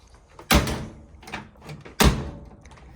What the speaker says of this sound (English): Doors closed, very nice.